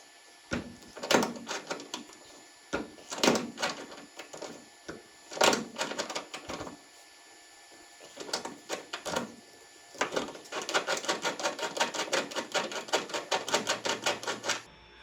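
A bolt being screwed into a custom side exhaust pipe on a pro touring Nova, heard as bursts of sharp metallic clicks and ratcheting taps, sparse at first and then a fast continuous run of clicks near the end, with no speech.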